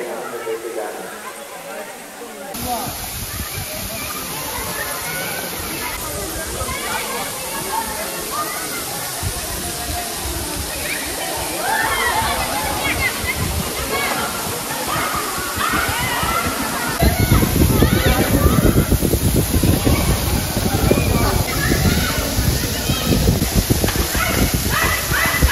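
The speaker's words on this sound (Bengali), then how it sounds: "মতি ঝর্ণা ওয়াটারফল। আর এই ওয়াটারফলসের নিচেই দেখতে পাচ্ছ অনেকে এখানে কিন্তু স্নান করছে" Moti Jharna waterfall with people bathing beneath it, a constant roaring rush and splashing of falling water that grows louder partway through, with voices and a dog barking mixed in.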